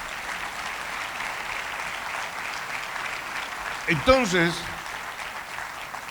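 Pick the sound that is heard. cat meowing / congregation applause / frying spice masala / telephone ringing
congregation applause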